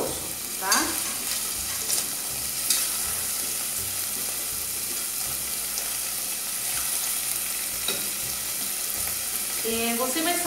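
Chicken breast pieces frying in a pan for chicken stroganoff, a constant close sizzle with occasional scrapes and clinks of a utensil stirring against the pan.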